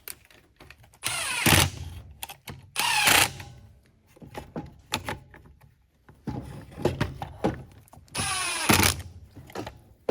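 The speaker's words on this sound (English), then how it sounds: "all I got to do now is just put these screws back in" A cordless screwdriver whirs in short bursts as screws go back into the guard of a Black and Decker 20V string trimmer, with quiet clicks and handling noises between runs.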